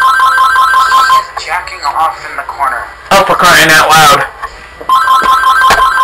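A telephone rings with a repeating electronic tone at the start and again at the end, while a loud, exasperated voice talks over the middle.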